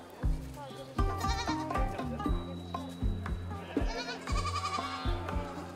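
Goats and sheep bleat repeatedly at the weekly livestock market in Nizwa, Oman. The bleats are loud and close and overlap in an irregular, busy chorus.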